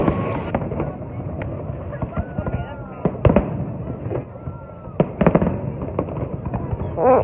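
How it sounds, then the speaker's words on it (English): Fireworks bursting at an evening carnival in Canada, a run of sharp bangs and crackles, some near and some farther off, over a steady crowd murmur with voices talking and cheering throughout. "The fireworks, the moment we all were waiting for."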